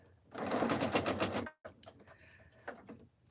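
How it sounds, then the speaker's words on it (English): A sewing machine runs a straight stitch along a fabric tube for a jelly roll rug, a fast, even mechanical whir for about a second before stopping, followed by quieter clicks and handling noises. "we're going to sew a straight stitch on this tube"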